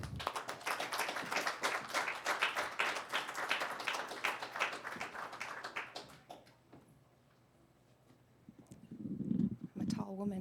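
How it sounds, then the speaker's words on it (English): Audience at a poetry open mic clapping for a first-time reader, sustained scattered applause that fades out after about six seconds, leaving a quiet room with faint rustling and a brief low voice near the end. "let's give her a special round of applause"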